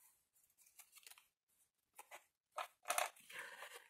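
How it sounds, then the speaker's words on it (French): Cardboard folds being creased for a bead storage box: faint, close scraping and crinkling in short bursts separated by pauses, growing louder and more continuous toward the end. "Donc, vous marquez les plis."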